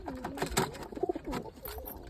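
Pigeons in a loft give short, soft, rolling coos close by, a few brief calls in quick succession with no talking.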